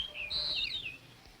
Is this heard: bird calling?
yes